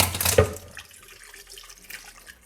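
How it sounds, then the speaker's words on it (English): Chicken broth is poured into a pot for carrot soup, a short splashing gush of liquid that tapers into a softer trickle, close and alone. "Okay, so now let's add our chicken broth."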